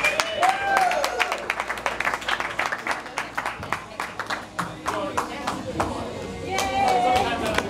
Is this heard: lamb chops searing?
no